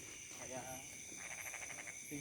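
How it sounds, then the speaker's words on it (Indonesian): Frogs croak at night beside rice paddies, a faint, steady chorus of pulsing calls blended with insect hum in a quiet outdoor setting. "Suara kodok."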